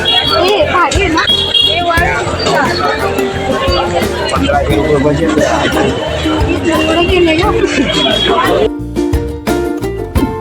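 Busy outdoor market crowd with a constant hubbub of overlapping voices, loud and close, with nearby speech cutting through the babble before the noise thins slightly near the end.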